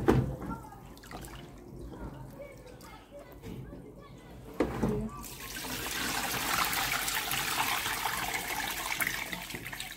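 Soybeans being washed by hand in water, with splashing and trickling that becomes a continuous sloshing wash in the second half, close, while a person talks at the start.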